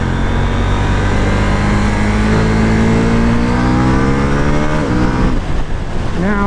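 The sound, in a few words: KTM 790 Duke motorcycle accelerating on highway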